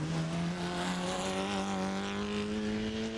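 Morgan Rip Special, a wooden-framed racing car, at the Chateau Impney hillclimb, a faint, steady engine whine that climbs gradually in pitch as it drives through the course.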